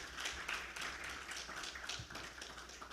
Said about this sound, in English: Ladies and gentlemen, another round of applause for Joseph.